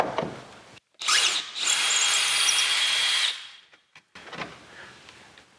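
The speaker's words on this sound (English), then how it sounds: "grab the screw gun and get busy" A screw gun whirs against a screw in old wood of a historic building, one sustained close burst of high-pitched motor drive lasting about two seconds, framed by short handling noises.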